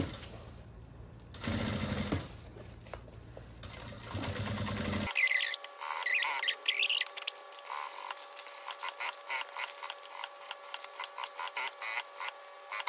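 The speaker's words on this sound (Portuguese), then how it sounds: "E vou costurando com margem de meio centímetro" A sewing machine stitches a school backpack panel with a half-centimetre seam allowance, giving quick rattling bursts that start and stop repeatedly, close by, alongside clicks and handling sounds of fabric.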